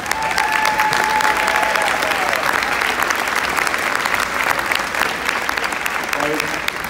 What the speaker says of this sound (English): if you want to stand up, we can clap for you.